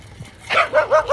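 A neighbourhood dog on a street barks three or four times in quick succession, loud and close, after a brief quiet lead-in.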